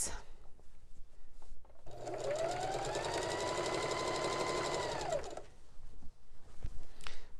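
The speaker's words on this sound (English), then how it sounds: "I've got white thread in the machine. This is just on a straight stitch." A sewing machine runs a straight stitch with white thread around the edge of a Christmas table runner, a close, fast rattling whir lasting about three seconds with a rising then falling motor tone, framed by quiet handling noise before and after.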